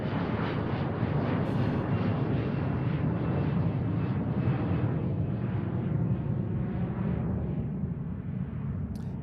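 An Embraer 175 LR jet departs Seattle airport with a broad, continuous engine roar, loud and rumbling throughout and slowly thinning toward the end as it climbs away.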